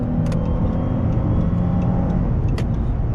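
A 2013 Chrysler 300 Touring accelerating on a sunny road in Turlock, California, heard from inside as a steady engine and road drone with a few brief clicks and ticks, no talking.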